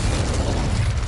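Confringo explosion spell in Hogwarts Legacy: a brief, dense burst of crackling, booming noise, loud and close, lasting about a second.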